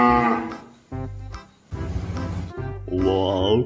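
A toy cow moos in a few long, low calls separated by short pauses, with a bright excited voice talking at the start and again near the end.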